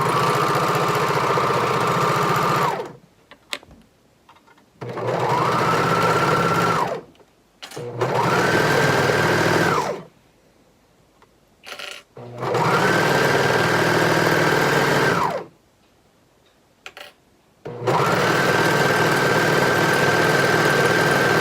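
A sewing machine stitches the side seam of a maxi skirt in four or five close, steady runs of even mechanical whirring, separated by short quiet pauses, with no talking.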